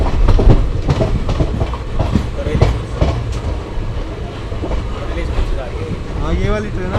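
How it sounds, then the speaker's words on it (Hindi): A passing express train on an Indian rail line between Rewari and Delhi rumbles loud and close, with steady clattering wheels and rail noise sustained throughout. "हाँ ये वाली ट्रेन है।"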